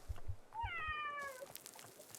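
A pet cat lets out a clear, rising then falling meow close by, preceded by a few soft thumps and followed by faint rustling.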